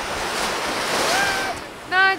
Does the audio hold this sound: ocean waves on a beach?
yes